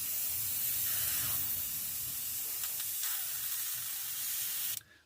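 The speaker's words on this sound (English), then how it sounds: "this is the spray as it comes out of the Advanced Seeker." A Gaahleri Advanced Seeker airbrush sprays paint in a steady, close, loud hiss that runs continuously and then cuts off abruptly near the end.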